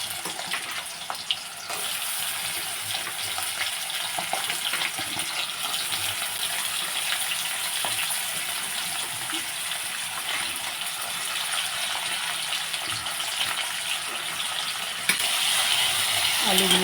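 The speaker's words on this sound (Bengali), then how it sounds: "আলুগুলোকে আমি 2-3 মিনিটের মতো ভেজে নিব।" Potatoes fry in mustard oil with black cumin in a wok, a continuous close hiss running for the whole stretch with a few light scrapes and a faint voice here and there.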